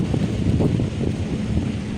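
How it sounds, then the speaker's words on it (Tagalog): Strong gusting wind buffets the microphone outdoors on a city walk, a continuous loud low roar and rumble with no voices. "Ang lakas ng hangin."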